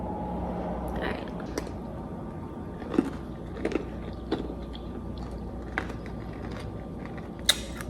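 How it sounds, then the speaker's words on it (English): A blueberry yogurt snack is bitten and chewed up close, giving a few sharp crunches and small crackles spread over the clip, with a person talking between bites. "I love the crunch and the freshness of the blueberry"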